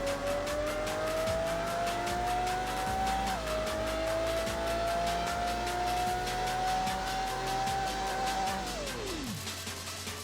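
A race car in the Apex Racer video game tears through a half-mile run: a loud, continuous engine whine climbs steadily with a gear shift midway, then drops off at the finish amid tire squeal, with no talking.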